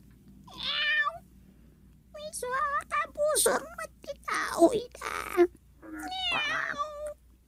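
Cats meowing: several drawn-out, rising and falling meows come in separate bursts, close and fairly loud, with people speaking between and over them.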